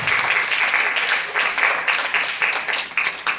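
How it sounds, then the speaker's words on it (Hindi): Loud applause opens a morning mathematics assembly for students, a close, energetic run of clapping that surges in uneven waves for a few seconds. "जोरदार तालियां के साथ"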